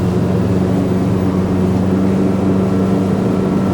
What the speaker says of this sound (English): We'll give it wide open throttle,